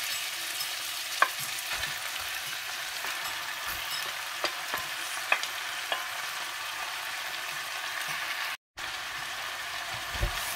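Ground meat and hotdog fry in a pan with a constant crackling sizzle, dotted with occasional spatula taps and stirring scrapes, cut by one brief silent gap near the end.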